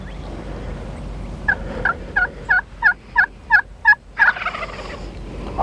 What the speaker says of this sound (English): Once a gobbler responds and starts coming to the louder calls, Alan switches to a smaller slate call